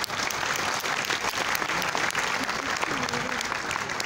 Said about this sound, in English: Please give Tan Sri a big round of applause.